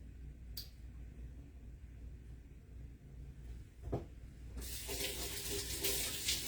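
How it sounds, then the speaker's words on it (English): Running water from a kitchen faucet splashing over hands in a sink, faint at first with a couple of clicks, then swelling into a steady close rush of flowing water. "Wash my hands here."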